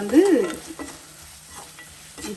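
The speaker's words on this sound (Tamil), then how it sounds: "கொஞ்சம் எண்ணெயில் இது வதங்கிட்டு இருக்கட்டும்." Spices sautéing in a little oil with stirring, a soft close sizzle with a louder burst of movement at the start, then quieter crackle throughout.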